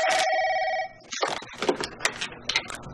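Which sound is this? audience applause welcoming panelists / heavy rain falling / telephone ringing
telephone ringing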